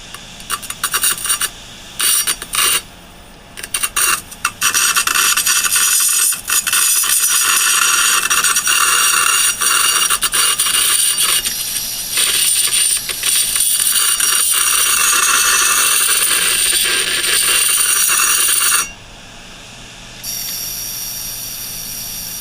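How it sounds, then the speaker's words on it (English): A desktop hard drive platter being etched, a loud continuous harsh scraping rasp that runs steadily for most of the time, with brief breaks near the start and a quieter hum after it stops. "Let's see what happens when we etch the disk."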